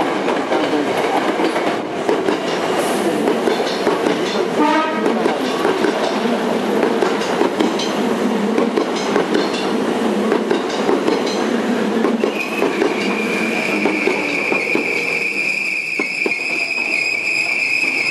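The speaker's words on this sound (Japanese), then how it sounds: "皆様、まもなく3号線に宝塚ホームに向かう電車が" A Hankyu Railway train pulls into a station platform bound for Takarazuka, its wheels clattering steadily with squealing and a rising high-pitched tone as it slows, loud and close throughout.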